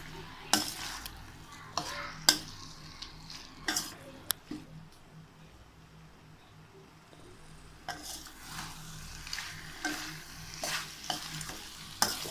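Chicken pieces for a Tamil chicken kuzhambu fry in hot oil in a pan, with a soft continuous sizzle broken by repeated loud clinks and scrapes of a metal spoon stirring against the vessel.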